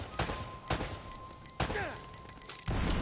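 Gunfire in the video game Uncharted: Drake's Fortune, several loud sharp shots at irregular intervals with whizzing effects and a heavier burst at the end, over background game ambience.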